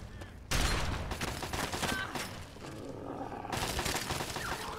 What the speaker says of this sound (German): Schüsse, ja, ja.